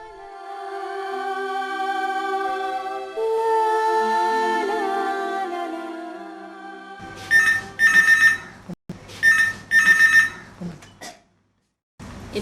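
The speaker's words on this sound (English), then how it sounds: "Frantic phone calls like these from nervous and worried parents or guardians are common." A telephone rings at a busy AIDS Prevention Society hotline office, its repeated electronic bursts arriving in a steady ring pattern after a stretch of tonal music, clear and fairly close with no talk over it.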